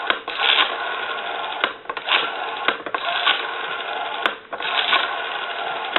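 Western Electric 302 rotary desk telephone with a freshly serviced dial, pulled and released several times, each turn giving a whirring, clicking return, heard close and alone.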